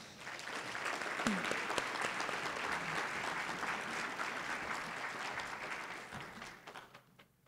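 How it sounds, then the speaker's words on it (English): A warm round of applause from an event audience fills the room, steady dense clapping sustained for several seconds before tapering off at the close. "Please give her a warm welcome and round of applause."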